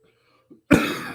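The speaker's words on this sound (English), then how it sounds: "Let me go and cough myself to sleep." An adult man gives a single hoarse cough after a brief quiet breath, close to the microphone and fairly loud, trailing off into a rough exhale.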